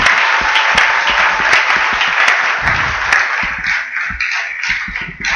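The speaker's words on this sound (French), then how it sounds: "Applaudissons fort le Seigneur Jésus-Christ" A church congregation applauds loudly and close by, the clapping strong and sustained at first and then breaking into sharper, more scattered claps toward the end.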